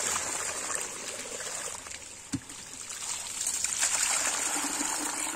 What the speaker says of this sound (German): Wichtig ist, bis es sauber ist, das Wasser so lange laufen lassen.